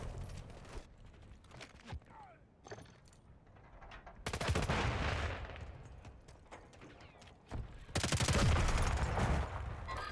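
Gunfire rattles through a Call of Duty Warzone match, with scattered shots followed by two loud sustained bursts. Footsteps and game noise sit around them, and a voice talks quietly at times.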